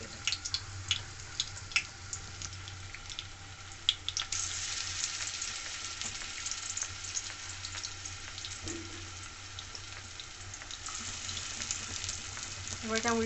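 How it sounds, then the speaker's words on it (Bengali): Gime shaak fritters fry in hot oil in a wok, a steady close sizzle running throughout with occasional clinks and stirring sounds, no talking. "এবার এটা উল্টিয়ে পাল্টিয়ে ভেজে নেব।"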